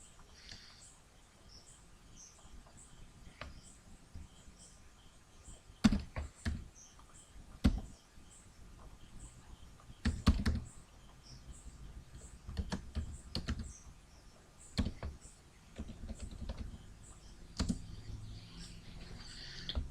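Keys clatter on a computer keyboard while text is entered into a Word Art box, irregular soft taps and clustered bursts of typing over a quiet room tone, with faint chirping in the background.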